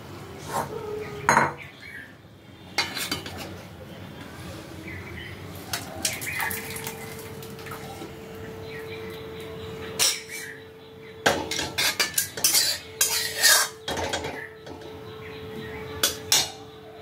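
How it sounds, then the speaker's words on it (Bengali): Cooked chana is poured from a pan into a serving dish, with scattered clanks and scrapes of metal utensils against cookware, a faint hum running beneath, and bursts of clatter spread throughout. "এখন আমি এটা গ্যাসটা বন্ধ করে আমি এটা ঢেলে নেব।"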